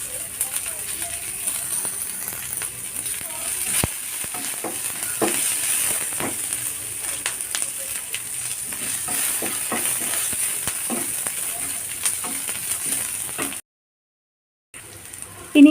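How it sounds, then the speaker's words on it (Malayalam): Pumpkin and potato sauté with curry leaves in a pan, giving a continuous soft sizzle broken by scraping stirs and light clatter. A brief silent gap comes near the end. "നന്നായിട്ട് വഴറ്റിയെടുക്കാം. ഇതിലേക്ക് ഞാൻ വേപ്പില ഇട്ട് കൊടുക്കുന്നുണ്ട്."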